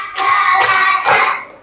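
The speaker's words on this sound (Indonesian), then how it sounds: "Tepuk 1. Tepuk 2. Tepuk 3. Tepuk 4. Tepuk" A group of people clapping together in a chant-style routine, with sharp, fairly loud hand claps coming in a few quick bursts, close by and without talk.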